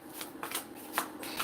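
Tarot cards being shuffled by hand, a steady run of soft papery riffles and slides repeating about every few tenths of a second, close and moderately quiet with no talking.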